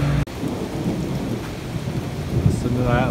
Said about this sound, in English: Listen to that lightning.